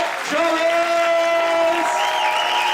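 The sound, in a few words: audience applause for comedian's introduction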